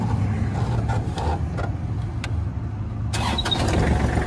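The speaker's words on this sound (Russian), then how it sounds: "Запускаем двигатель." A Kubota GL series tractor engine turns over and settles into a low, rumbling idle, with a few clicks and rattles on top.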